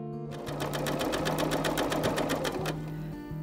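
A BERNINA overlock machine sews bias tape onto fabric, its rapid steady stitching loud and close, running continuously after a short start with a low motor hum underneath.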